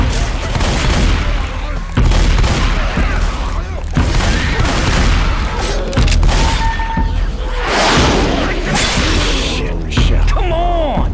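Continuous loud rifle fire in Left 4 Dead, dense overlapping shots with whooshes and booms of zombie combat, voices speaking over the shooting throughout.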